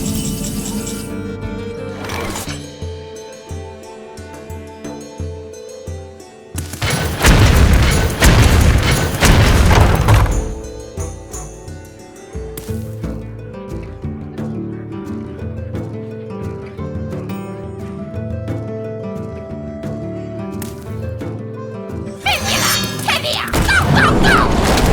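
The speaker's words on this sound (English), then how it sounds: "Barrel thrown. Explosions imminent." Barrel explosions in the Hearthstone card game: heavy booms and crashing blasts, one long loud burst in the middle, amid busy game sound effects and rattling, with another blast near the end.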